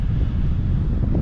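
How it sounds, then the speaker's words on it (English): Loud, continuous wind of 20 mph gusts buffeting the microphone, a low roaring rumble with no other sounds and no pauses. "It is super windy over here."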